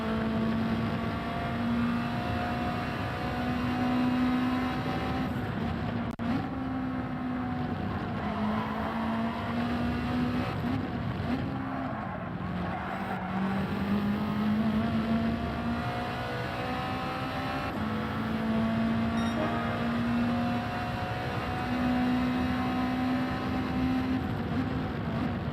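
Race car engine in Gran Turismo 7 drones steadily at high revs throughout, its pitch sliding up and down through gear changes and a mistimed downshift, loud and continuous with a faint tire squeal.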